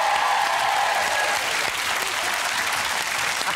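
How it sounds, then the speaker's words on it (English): Steady, dense studio audience applause on a TV chat show, continuous and fairly loud throughout with no break. "Give him a big round of applause."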